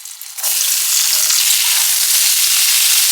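Potatoes, drumsticks and peas hit hot oil in a pan after a hing and green chili tempering, bursting into a loud, close, continuous frying hiss that holds steady, with no voices.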